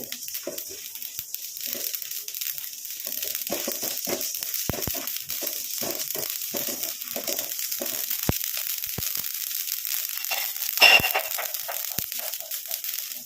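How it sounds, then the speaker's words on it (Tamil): Mustard seeds and black cumin frying in hot oil on a low flame, giving a steady faint crackle with scattered sharp pops and one brief louder burst, heard without talk. "பாருங்கள், நல்லா பொரிய ஆரம்பிச்சிருச்சு"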